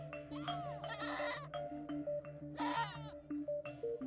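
Goats bleating repeatedly, several wavering cries close by, with a steady tonal musical line playing underneath throughout.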